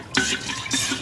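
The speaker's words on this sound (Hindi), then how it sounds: "इसको अच्छी तरह से आपने मिक्स कर लें।" A spoon stirs raw mango juice with sugar and salt, giving two brief swishing, clinking strokes close up.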